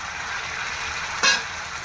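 Tomato pieces frying in a pan for an egg dish, a steady soft sizzle with a brief sharper crackle partway through.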